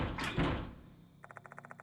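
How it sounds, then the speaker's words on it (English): In the video game Death Mark 2, a door is tugged with a dull thud and scrape, then a quick series of about nine light metallic rattles as it stays stuck, faint and close, with no talking. "The door won't budge no matter how many times I tried to open it."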